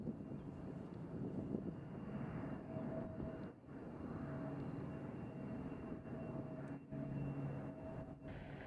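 An airplane at Nashville airport rumbles faint and distant in steady gusty wind, a low drone with a few faint tones running through it and no talk.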